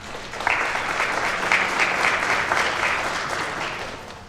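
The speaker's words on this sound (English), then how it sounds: "Can we give her a round of applause?" An audience at a school board workshop meeting applauding steadily, a dense wash of clapping that holds for several seconds before easing off.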